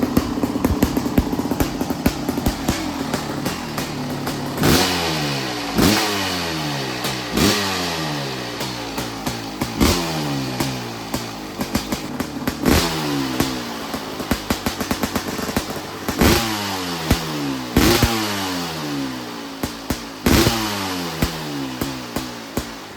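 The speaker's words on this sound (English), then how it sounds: "The vibrations coming off this bike are absolutely crazy." A Kawasaki KX500 two-stroke dirt bike engine revs repeatedly, each blip climbing in pitch and dropping back, with sharp throttle bursts over a rough, vibrating idle, close and loud with no talking.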